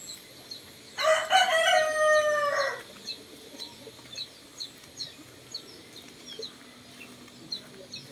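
A rooster crows once, loud and close, over faint chicken clucks and soft background noise that continue after the crow.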